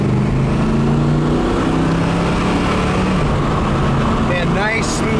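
Heard loudly from inside the car, a 1979 Trans Am engine climbs in revs, dips at a gear shift and pulls again. A steady road roar runs underneath, with some voices in the cabin.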